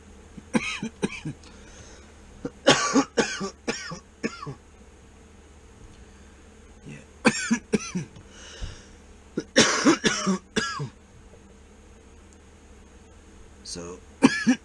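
Repeated bursts of harsh coughing in several clusters, loud and close, separated by quiet pauses with faint background hum.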